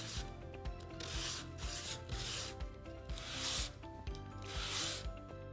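A sanding block scrubs back and forth on wooden cove molding in slow, regular rasping strokes, each pass swelling in brightness and fading, close and alone without talk.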